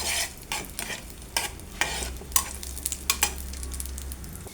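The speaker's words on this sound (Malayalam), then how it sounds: "നമുക്കിത് ജസ്റ്റ് ഒന്ന് വറുത്തെടുക്കാം നെയ്യിൽ." Cashews and raisins frying in ghee, with a soft steady sizzle under repeated scraping strokes of a spoon stirring in the pan, close and distinct, several stirs spaced about half a second to a second apart.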